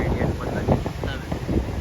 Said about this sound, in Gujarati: આજે હમણાં થોડુંક વાવાઝોડું છે, પવન ને દરિયામાં બહુ તોફાન છે.